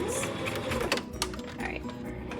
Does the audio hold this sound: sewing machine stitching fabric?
yes